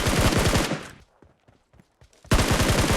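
Rapid automatic gunfire in the mobile battle royale game PUBG Mobile bursts loud and close, stops for a second of near silence with faint ticks, then resumes in another dense volley.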